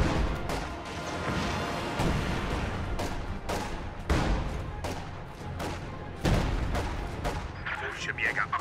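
An Su-76 artillery barrage in a video game slams into an MG-34 position, with repeated heavy blasts and crashing impacts rolling steadily over dense battle noise.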